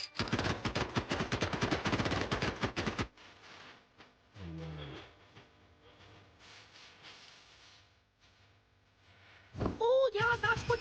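Rapid bursts of gunfire or machine-gun fire ring out loud and dense for about three seconds, then give way to quieter background noise and brief voices, before another loud burst returns at the end.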